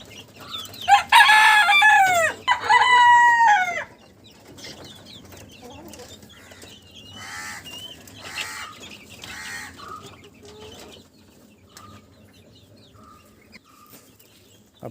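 A hen close by, ready to lay eggs, gives loud drawn-out calls and clucks for the first few seconds, then softer intermittent clucking and quieter calls continue.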